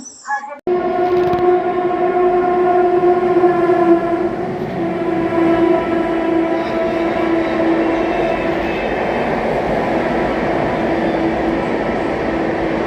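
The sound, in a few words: Dibrugarh–New Delhi Rajdhani train overtaking Magadh Express at junction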